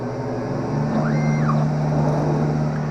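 A lens edger lowers a lens onto its bevel wheel to grind a V-shaped bevel, giving a steady mechanical whir and hum with a brief rising and falling whine in the middle.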